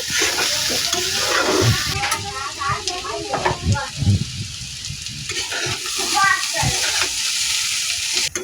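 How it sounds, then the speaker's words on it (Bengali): Banana peel being stir-fried and turned over in a pan, giving continuous hot-oil sizzling broken by the scrape and clatter of a spatula, with a voice talking over it. "এটাকে আমি উল্টে পাল্টে ভেজে নিচ্ছি।"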